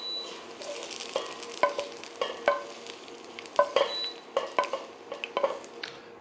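Mushrooms sauté in a hot pan with a steady sizzle, with repeated sharp scrapes and clinks of a utensil stirring them, close and fairly loud, with no talking.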